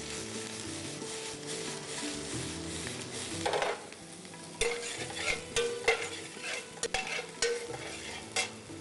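Chopped onions sizzle and hiss in a hot pan while a spoon scrapes and stirs them in irregular bursts, with a few sharper clinks against the metal.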